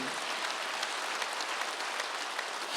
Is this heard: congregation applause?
yes